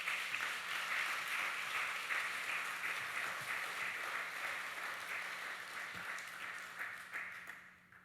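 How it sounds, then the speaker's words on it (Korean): A church congregation at a Sunday worship service applauds to welcome the speakers, a broad, steady wash of clapping from many hands that carries on evenly, then thins and fades out at the end. "박수로 맞이해 주시기 바랍니다"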